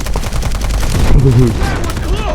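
Rapid bursts of gunfire in the video game Delta Force, loud and continuous under a busy mix of other game sounds.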